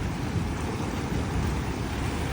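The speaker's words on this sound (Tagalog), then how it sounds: "Malakas yung alon." Heavy surf roars continuously at a beach in Bani, Pangasinan during a storm, a dense, steady wash of crashing waves with wind buffeting the microphone.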